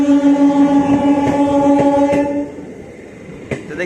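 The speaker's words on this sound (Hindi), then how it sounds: "तो ये है आरा सासाराम मेमू, ये भी आ चुके हैं।" Ara-Sasaram MEMU train arriving at Piro station, a loud steady rumble with strong tonal hum and horn-like harmonics close by for the first half, then fading into quieter rolling noise with a brief clank near the end.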